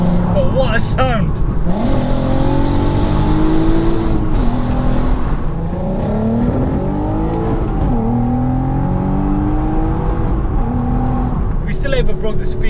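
A VW Golf R32 engine revs hard while driving, loud and close with rising and falling pitch sweeps as it accelerates through gears, accompanied by road and wind roar, with voices talking over it.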